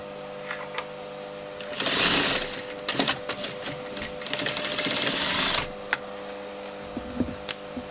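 Sewing machine stitching a seam on ladies' trousers, a close rapid mechanical whir in two bursts separated by brief clicking, over a steady background hum.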